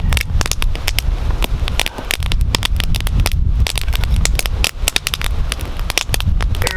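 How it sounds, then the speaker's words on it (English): A campfire crackles and pops loudly up close, a dense run of sharp snaps over a windy, rumbling roar of flame. "that fire's well on its way"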